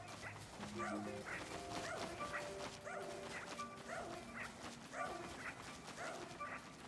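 A dog in the video game Pikmin 4 barks and yips in quick repeated bursts with whimpering in between, close and fairly loud, over game background sound.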